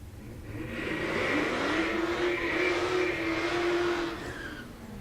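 A stick-shift Ford Terminator with a 112 cubic inch blower on its 4.6 engine revs hard at a Tulsa drag strip, a rising supercharged howl that builds, holds and fades over a few seconds, heard from a distance without talk.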